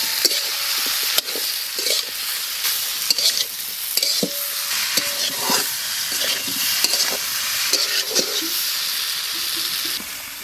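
Cauliflower with salt, turmeric and tomato fries in a pan, giving a steady bright sizzle broken by repeated scraping stirs and clinks of a spoon.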